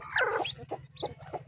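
A hen with newly hatched chicks clucks close by, giving a few short, throaty clucks at an uneven pace, with faint high peeps from the chicks between them.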